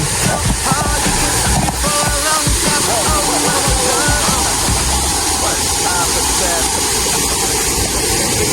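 Aliw Falls, a waterfall, pours with a steady, loud rush of water throughout, while children chatter and call out over the roar.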